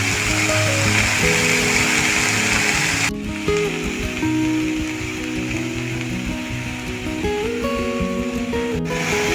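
Vegetables fry in a pan with a steady, loud broadband sizzle that runs for the full length, easing slightly partway through, with a few faint clatters of utensils underneath.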